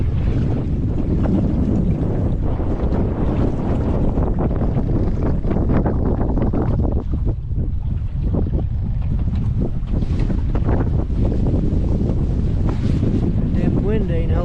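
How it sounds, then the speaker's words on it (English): Strong wind gusts roar steadily across the microphone on a boat ride at Hoover Dam, with boat and water noise churning underneath, loud and continuous throughout. "Damn wind ain't helping us at all."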